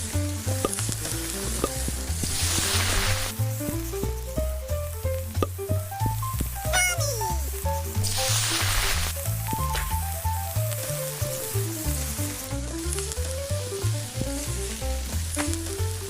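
Continuous frying sizzle of burger patties on a grill in a virtual reality food truck game, steady and close under busy game music and effects, with no talk.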